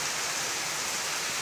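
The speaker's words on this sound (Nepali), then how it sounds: "मेरो घरको तल हेर्नु यस्तरी पानी परेको छ।" Heavy rainfall in Pokhara pours down as a dense, steady hiss, loud and unbroken throughout, with no voices.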